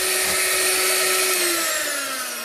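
An electric beater whips candle wax with a continuous loud motor whine whose pitch slowly sinks as the wax thickens, close and without talk.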